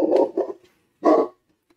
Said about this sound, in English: She is a very large Saint Bernard.